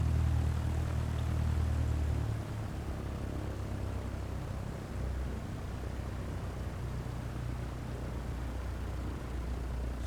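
Cessna 172 propeller engine idling and taxiing in a flight simulator game, a steady droning hum with broadband whoosh that drops slightly in pitch and level after a couple of seconds, continuous and without talk.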